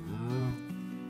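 A cow in the video game Minecraft gives a single drawn-out moo, loud and close, with a pitch that bends partway through, heard alone without talk.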